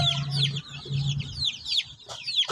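Three-week-old chicks on a farm chirp and cluck in quick, overlapping high peeps over a low steady hum, lively and fairly close throughout.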